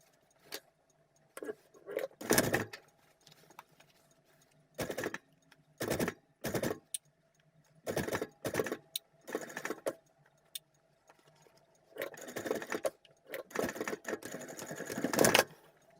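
Sewing machine stitching topstitching on homemade shorts after the presser foot is changed, running in short separate bursts with pauses between, at moderate loudness and with no talking.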